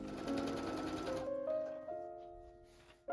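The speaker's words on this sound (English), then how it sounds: "Sew the center of the front panels." A sewing machine runs at close range, stitching the front panels of a pants skirt with a steady mechanical whir that slows and winds down near the end.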